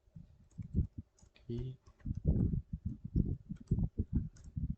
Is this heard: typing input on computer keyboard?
yes